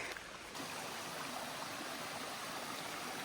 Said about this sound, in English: Nice little water source.